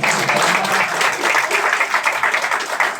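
Dense audience applause fills a Nepali marketing event hall in Butwal, with many hands clapping steadily and loudly throughout, a faint murmur of voices underneath.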